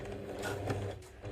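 A sewing machine, turned by hand wheel to start, stitches a seam on a zipper travel pouch, a brief close steady mechanical whir.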